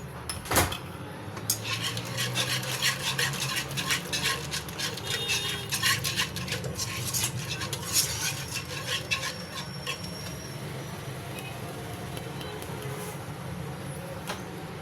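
A spoon scrapes and clinks against a cooking pot as spices are stirred, with irregular metallic taps and rubbing strokes over a low background hum, fairly close and moderately quiet.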